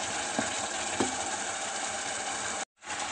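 A steady, loud sizzle of okra frying in a pot, with a couple of scraping stirs before it cuts out briefly.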